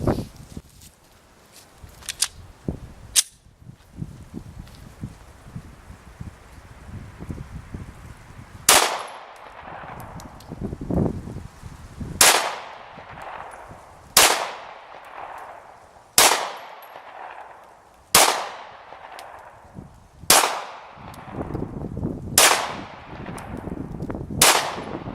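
Gunshots at a shooting practice session, about ten sharp cracks with ringing tails fired one by one at a steady pace of roughly two seconds, loud and close, after a few earlier isolated shots.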